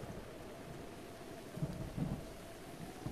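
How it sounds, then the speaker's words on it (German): Thunder rumbles through a rainstorm in the game Zelda: Breath of the Wild, two low muffled rolls around the middle over a steady hiss of rain, fairly faint and without talk. "Blitz und Donner, ernsthaft, okay."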